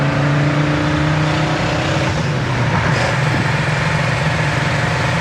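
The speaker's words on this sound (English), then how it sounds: "Exhaust sounds good too." A 1964 Chevrolet Chevelle's exhaust rumbles steadily from inside the car while it drives down the road, a continuous low engine drone with road noise and no talk.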